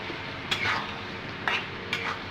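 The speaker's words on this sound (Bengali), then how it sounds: "এখন আমি আলুগুলি ঢেলে দিয়ে দেবো" Potatoes tumble into a pan of frying masala, a few soft thuds and scraping bursts over a low steady sizzle, close and brief.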